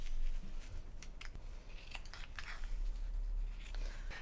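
Scissors hand-cutting a felt star pattern for a fairy wand, giving soft, irregular snips and crunches close by, repeated through the moment over a low steady background.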